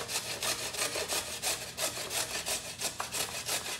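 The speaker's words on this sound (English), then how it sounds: "the first thing I'm gonna do is to grate my carrot" A raw carrot is rubbed against a grater for egg salad, giving a steady run of rhythmic scraping strokes, close and fairly even, with no talking.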